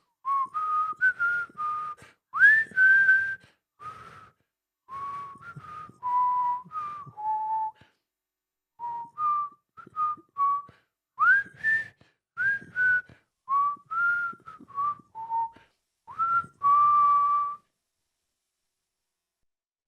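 A single person whistles a melodic tune, clear and close, in short phrases separated by brief pauses.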